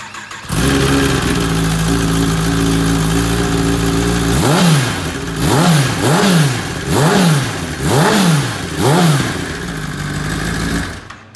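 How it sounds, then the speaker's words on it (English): A 2019 Kawasaki ZX10R KRT with a Scorpion exhaust starts up close by and settles into a loud idle, then is revved sharply five or six times in a rising-and-falling rhythm before dropping back to idle. "Sounds and looks fantastic with that Scorpion exhaust"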